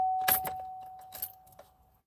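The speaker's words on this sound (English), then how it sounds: "You just can't get your ignition to move like this." A key jiggled in a stuck car ignition that won't turn gives close metallic rattling in two bursts over a steady, thin warning chime.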